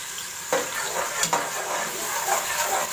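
Ground onion sizzles steadily in hot oil in a pan, with a continuous frying hiss and a few soft stirring clatters.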